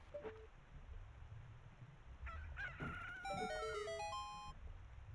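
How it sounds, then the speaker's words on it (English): A chicken sounds muffled underwater in Zelda: Ocarina of Time, a short faint series of clucks and squawks over a low watery rumble. "I like how the chicken's also muffled by the water"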